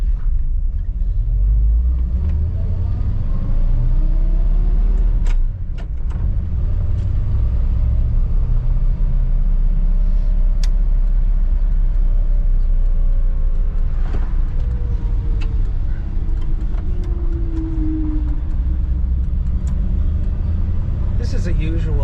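A 1959 Chevrolet Bel Air drives along a street, its engine giving a steady, loud low rumble throughout with occasional shifts in pitch, and people talking inside the car over the drone.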